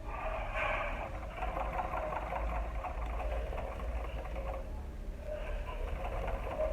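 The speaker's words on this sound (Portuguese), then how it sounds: "Passar uma costurinha em cima outra vez." A sewing machine runs steadily, stitching a seam over a pearl-trimmed baby shoe, its whirring motor humming continuously and close by with no pauses.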